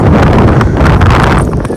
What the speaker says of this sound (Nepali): अलिकति डाँडामा पुरा हावा सरर आइरहेछ